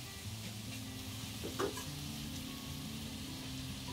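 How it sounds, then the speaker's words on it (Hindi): Tomatoes and onions cooking in a pan for a dry bangda (mackerel) dish give a faint, steady sizzle, with a brief stir or scrape partway through. "चल इसे मिला देते हैं और थोड़ा सा पकने देते हैं।"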